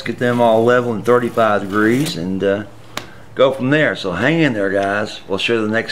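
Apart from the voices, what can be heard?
None of the usual background noises is heard.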